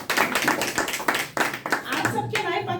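An audience claps in a burst of applause that rises to a dense, close patter, then thins and tapers as a voice begins speaking over it.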